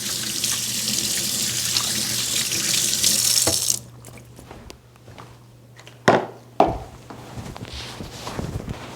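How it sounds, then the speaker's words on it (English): A kitchen tap runs steadily at a sink while hands are rinsed of butter during apple pie baking, the flow loud and continuous for several seconds before cutting off, followed by a few sharp clunks and quieter handling sounds. "Let me wash my hands over here."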